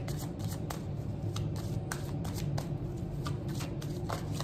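Tarot cards shuffled by hand before a reading, a steady run of soft riffling flutters and light slaps repeating close by, quiet and with no talk.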